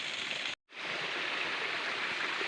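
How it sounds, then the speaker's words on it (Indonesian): A water spout pours into a small stream at a hidden spring in Kalidawir, Tulungagung, making a steady, close rushing splash with a brief gap of silence near the start. "Malah ketemu pancuran ini."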